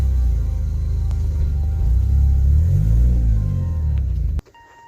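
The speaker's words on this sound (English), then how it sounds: "the car moved on its own power" A Mitsubishi Eclipse GSX, newly rebuilt and on its first drive, rolls off under its own power with a loud, close engine rumble that rises and falls as it pulls away, then cuts off abruptly near the end.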